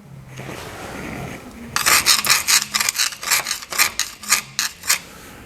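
Someone scratches and brushes grime off the chassis of a REO Gold Comet ramp truck near the front axle: a quiet start, then a brisk series of close, loud rasping strokes.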